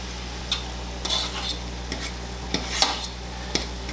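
Onions and peppers sizzle softly in a pan for chicken burritos while a utensil stirs them, with scattered scraping clicks over a steady low hum.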